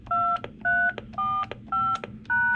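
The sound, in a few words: telephone keypad DTMF tones entering a security code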